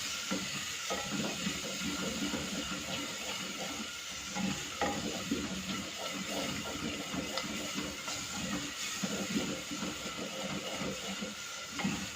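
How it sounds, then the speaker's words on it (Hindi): Masala cooking with ground tomatoes sizzles and crackles continuously in the pan, with constant stirring and scraping throughout and no talking. "मसाले को अच्छी तरह भूनेंगे।"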